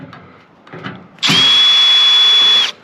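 A power drill backing screws out of a scrap microwave, a few faint clicks and handling sounds followed by a loud, steady whirring burst lasting just over a second, close up.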